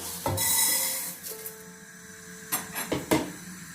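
Chickpeas are dry-roasted and stirred in a pan, producing sporadic scraping and rattling knocks of a utensil against the metal, close and fairly quiet, with no talk.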